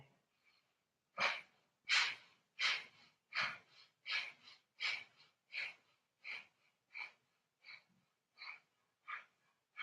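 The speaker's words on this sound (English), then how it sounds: "We'll inhale about 3/4 of the way and then begin our first round of Kapalabhati breathing." Forceful rhythmic exhales of Kapalabhati breathing during a gentle yoga class, about fifteen sharp nasal puffs in a steady pulse, close and clear, with brief quiet gaps between them.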